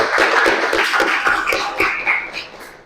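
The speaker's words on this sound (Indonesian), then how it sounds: "Kita tepuk tangan untuk kelompok 1." A classroom of students claps for a student group in a physics lesson, brisk dense applause that is close and loud, then tapers off over a few seconds.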